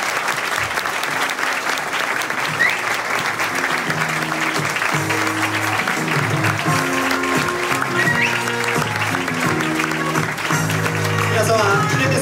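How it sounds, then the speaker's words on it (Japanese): An audience at a basketball player's talk event in Harajuku, Tokyo, applauds loudly and continuously while music plays underneath. "皆様、今一度盛大な拍手でお送り出してください。"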